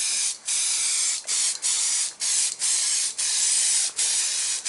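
Aerosol rust-treatment spray can hissing in several long bursts with brief pauses between them, loud and close, used during rust removal on a Rover Mini Cabriolet restoration.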